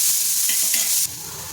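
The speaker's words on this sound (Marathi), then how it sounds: "एक मोठा कांदा घेतलेला आहे त्याच्यामध्ये थोडं तेल टाकून घेते आणि ह्याला पण सोनेरी रंग येईपर्यंत भाजून घेते" Chopped onion sizzles loudly and steadily in hot oil in a pan as it fries toward golden, a dense close hiss that drops slightly in level near the end.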